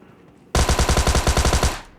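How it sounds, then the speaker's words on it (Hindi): Automatic gunfire in the battle royale game PUBG Lite: after a quiet start, a loud, rapid burst of about a dozen evenly spaced shots rattles for over a second, then cuts off and fades. "पीछे से फायर आता है"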